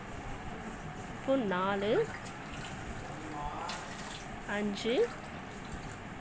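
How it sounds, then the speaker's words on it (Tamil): Water is tipped from a tumbler into a cooking pot for rava kichadi in two short splashing pours a few seconds apart, while someone speaks quietly between them. "நான் 6 டம்ளர் தண்ணி வைக்கிறேன்"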